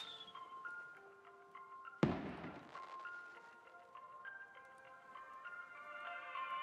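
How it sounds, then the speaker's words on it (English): Explosion in a raft survival video game, a single sharp broadband blast that cuts abruptly through a backdrop of steady tonal game music and chimes, then fades back under the music. "No, I'm following the explosion."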